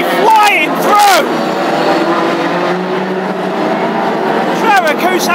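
Classic hot rod race cars in a Scottish Open Championship final at Lochgelly roar around the track: loud, continuous engine noise with rising and falling pitch sweeps as cars pass close, under excited race commentary.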